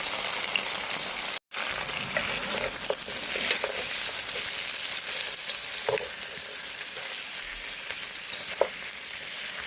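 Beef browning in a large pot for a stew, a steady close sizzle and crackle of frying with occasional pops and stirring clatter, no voices.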